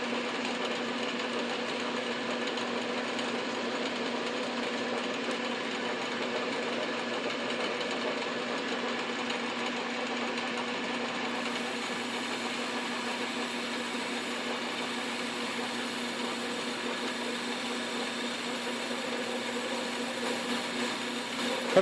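A South Bend 9 x 24 workshop lathe cuts a pulley held on its shaft, giving a steady, continuous mechanical hum and whir that runs unbroken and even throughout.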